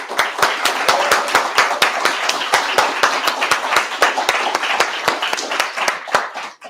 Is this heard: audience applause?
yes